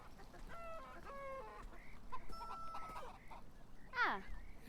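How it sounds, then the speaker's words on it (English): Chickens in the video game Beyond Eyes give a run of clear, repeated clucks and squawks, a few rising calls standing out over a steady low background hum, with no talking. "Ravens don't sound like chickens."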